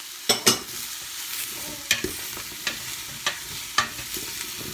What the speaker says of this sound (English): And again, carry on with the stirring.